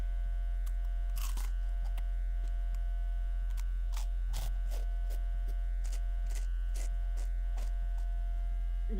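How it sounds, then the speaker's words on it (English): Electric lights in an enclosed liminal cave space give off a constant low mains hum and buzz, steady and unbroken throughout. Faint scattered clicks and crackles sit over the hum, and no one speaks. "They just stay on and they keep humming at me."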